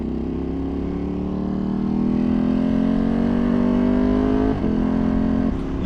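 Tuned Ducati Panigale V2 motorcycle engine held at a loud, steady high rev close by, its pitch creeping upward, with a brief dip and a second short drop near the end; no talk.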